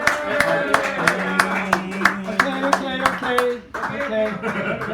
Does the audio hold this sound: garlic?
no